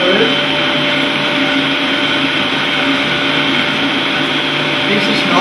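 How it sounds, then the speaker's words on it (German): A kitchen blender runs steadily while almond oil is poured in during raw-food sushi preparation, a loud continuous whirring drone that holds for several seconds with no pauses. "Und dieses Mandelöl gieße ich jetzt bei laufendem Mixer hinein."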